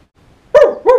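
A voice imitates Pluto the cartoon dog with two loud, throaty barks in quick succession after a brief quiet pause.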